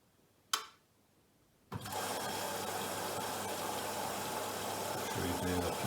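Washing machine loaded with used Lego kicking into its wash cycle: a single knock, a short pause, then a sudden steady motor hum and churning that carries on evenly at moderate volume.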